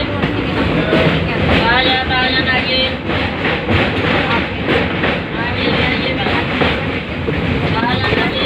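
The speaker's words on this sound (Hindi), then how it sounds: "भैरोगंज रेलवे स्टेशन से रामनगर की ओर जाती रेलगाड़ी।" A train pulls out of Bhairoganj railway station toward Ramnagar, close and loud, with a continuous rolling rumble and wheel clatter. Voices sound faintly in the background.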